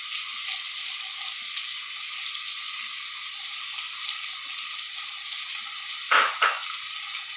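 Onion, ginger and green chilli frying in a pan: a steady, close hiss of sizzling oil runs throughout, with a couple of short scraping stirs near the end and no talking.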